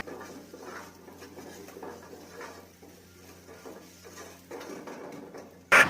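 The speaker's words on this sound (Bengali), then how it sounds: "রান্নাটা হাই ফ্লেমে হচ্ছে, তাই সবসময় খুন্তিটাকে ভালো করে নাড়িয়ে যেতে হবে" A metal spatula stirs egg tadka in a pan over a high flame, making soft, irregular scraping and patter beneath a low sizzle, followed by a sharp clank at the very end.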